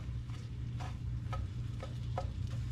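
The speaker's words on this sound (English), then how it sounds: "we're just going to keep moving these around gently until we warm them" Gentle stirring of melting ingredients in a pan at home while making rice krispie treats, with soft regular scrapes and ticks every half second or so over a low background hum.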